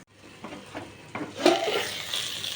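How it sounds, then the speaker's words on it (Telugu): Tamarind broth poured into a hot frying pan of spiced oil and tomato for a pepper rasam with bottle gourd: a few light clinks, then a sudden loud hissing sizzle that swells and keeps bubbling steadily. "ఇది ఇప్పుడు పులుసు పోస్తున్నా"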